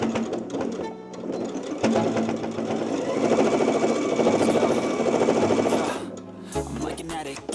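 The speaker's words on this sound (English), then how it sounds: "I'm gonna stitch right in that same spot again." An embroidery sewing machine stitches a D-ring onto a key chain with a fast, even mechanical chatter that runs for several seconds. It starts and stops around short pauses, and music plays behind it.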